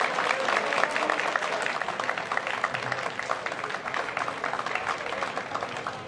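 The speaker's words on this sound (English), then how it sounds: "To all of our facilities staff and crew, let's give those guys a nice round of applause." An audience applauds the facilities staff and crew at a Holy Ghost Day kickoff event, a steady wash of many hands clapping at moderate distance and holding an even level throughout.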